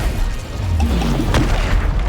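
A fiery Incendio spell blast in the video game Hogwarts Legacy, a loud booming burst with a whooshing crackle that swells and fades over about two seconds, with no talking over it.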